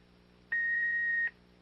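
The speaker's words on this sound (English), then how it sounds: "Please leave a message after the tone." A single steady electronic beep from an answering machine, signalling the start of a message recording; one sustained mid-high tone lasting under a second, clear and alone against a faint hum.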